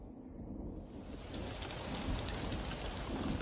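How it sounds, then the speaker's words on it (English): Steady monsoon rain pours in a tropical forest, a dense hiss with a low rumble of distant thunder rising gradually over several seconds. "The monsoon rain feeds the tropical flora and fauna."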